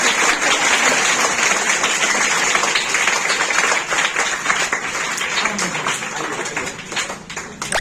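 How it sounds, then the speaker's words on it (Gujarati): A hall audience breaks into loud, continuous applause for a first-place prize winner, dense clapping sustained for several seconds before gradually thinning toward the end. "જોરદાર તાળી થઈ જાય ભાઈ."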